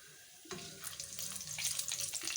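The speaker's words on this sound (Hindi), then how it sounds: "इसको डाल देते हैं, हल्का सा फ्राई कर लेते हैं इसको।" Whole cloves, cardamom, black pepper, black cardamom, bay leaf and cumin dropped into hot oil for chicken korma, bursting into a sudden bright sizzle that keeps crackling steadily, close and without talk.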